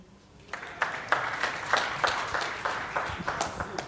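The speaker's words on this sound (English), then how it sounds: "Clap for me." A small audience at a human rights summit evening session claps in a sparse, fairly faint patter of individual hand claps, irregular and not very dense, with a quieter start.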